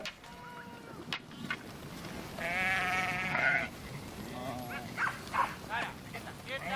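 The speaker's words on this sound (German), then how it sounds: "Der Herbst ist die Zeit, in der die Schafe zusammengetrieben werden" Sheep bleat repeatedly during autumn herding in Navarra, several loud overlapping cries over a flock's background murmur, while a narrator talks throughout.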